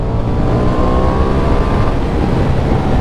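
A Ducati Diavel V4 motorcycle engine held at high revs gives a loud, steady, close-up drone. There are no voices.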